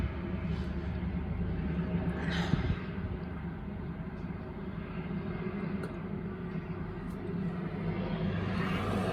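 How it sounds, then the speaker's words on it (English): A helicopter flying overhead gives a steady low rotor and engine rumble that drones on unbroken and moderately loud, with no voices heard. "this is the helicopter that keeps harassing me"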